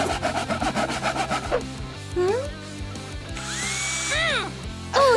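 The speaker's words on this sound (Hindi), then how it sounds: "वो अभी भी सो और ड्रिल कर रहा है।" Wood is sawed with quick rhythmic strokes, then drilled, while a ladder is built in a cartoon house-building scene; the tool noise soon sits under animated voices and musical tones.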